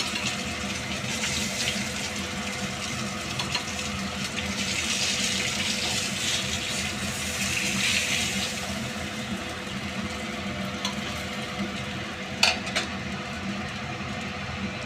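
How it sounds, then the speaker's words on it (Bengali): Fish frying in hot oil in a pan, a steady, hissing sizzle running throughout at even volume, fairly close, with a brief sharp clatter near the end and nobody speaking. "তেলটা গরম হয়ে গেছে, আমি এবার মাছটা দিয়ে দিচ্ছি।"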